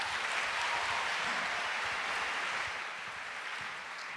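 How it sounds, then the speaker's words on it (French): An audience applauds in a large room, giving a steady, dense wash of clapping that stays loud before easing slightly toward the end. "Je vous demande un tonnerre d'applaudissements pour Madame Absatou."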